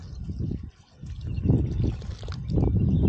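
Water poured by hand onto the ground, a close, uneven splashing and trickling in short bursts that grows fuller toward the end, heard alone.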